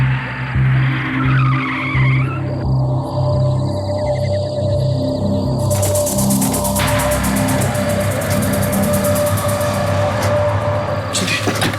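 A car arrives with its tires skidding, a loud continuous engine roar with screeching squeals layered over it, sustained for the whole stretch without letting up.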